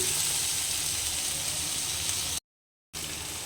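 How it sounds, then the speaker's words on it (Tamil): Tomatoes sauté in a pan for tomato chutney, with a steady, close sizzle and hiss that cuts out briefly into silence before resuming. "தக்காளி நல்லா வதங்கட்டும்"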